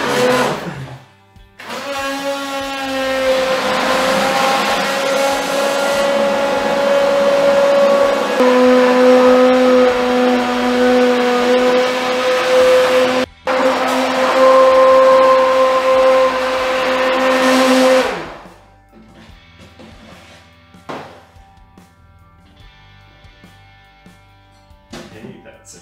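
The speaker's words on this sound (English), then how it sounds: "Use a blender or whatever." A kitchen blender blitzes roast butternut squash soup in two long, loud whirring bursts with a brief pause between them, then stops, leaving quiet clinks and faint talk.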